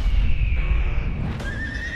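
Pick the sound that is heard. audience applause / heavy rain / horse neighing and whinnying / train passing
horse neighing and whinnying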